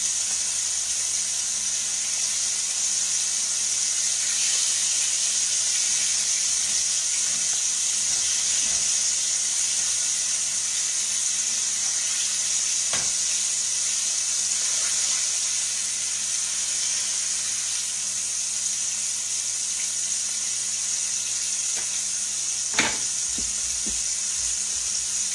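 Round steak sizzles and fries steadily in a pan, a loud continuous hiss with occasional faint clinks and no talking.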